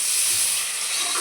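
Tomatoes sautéing in a hot pan for chicken kuska, a steady close frying hiss with a soft bubbling crackle, heard alone for a brief moment.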